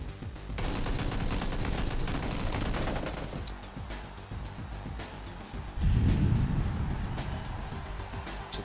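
Dense gunfire from the battle royale game PUBG during a tournament qualifier, rapid overlapping shots and bursts forming a continuous rattling roar, with a heavier boom partway through and no talk over it.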